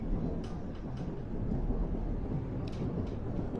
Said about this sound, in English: That is all thunder.